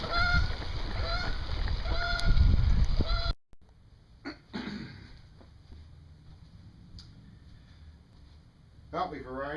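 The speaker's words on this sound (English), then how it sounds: "I've seen a few geese." Geese honking during a long-distance bicycle trip, several repeated calls over loud wind and riding noise for about three seconds, then the wind drops away and faint scattered sounds remain.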